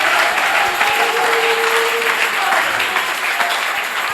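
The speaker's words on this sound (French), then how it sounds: "Acclamons très fort le Seigneur Jésus-Christ." A church congregation applauding: dense, sustained clapping from a large crowd, loud and steady throughout, with voices mixed in beneath it.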